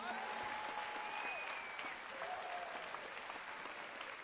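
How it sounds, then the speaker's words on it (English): A church congregation at a deliverance service in London claps along, dense and continuous, while a sustained voice and tones ring over the steady clapping throughout. "Clap your hands to Jesus."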